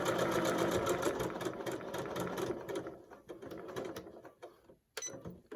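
A sewing machine runs in a fast, steady rattle while stitching a fabric face mask, then slows into short stop-start bursts and brief pauses as the seam nears a pivot.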